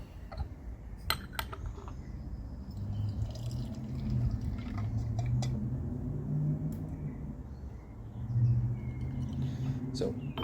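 Hot water poured over raw puerh tea for a quick rinse, a steady low splashing and trickling pour running for several seconds with a few small clinks, close by and fairly quiet.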